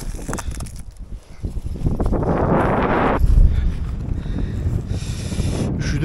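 Strong outdoor wind buffets a microphone with loud, rumbling gusts that swell and roar for several seconds, with no clear speech.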